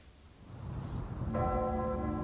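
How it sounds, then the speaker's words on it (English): Gloucester Cathedral's bells ring out over the town, a faint, distant peal that enters clearly partway through and sustains with ringing tones. "The bells of Gloucester Cathedral ringing out over a town"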